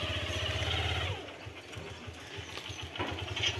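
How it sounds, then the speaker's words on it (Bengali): A motorcycle engine idles close by as the bike is wheeled out, its rhythmic low putter shifting after about a second into a rougher, uneven chug. "বাইক বার করছে।"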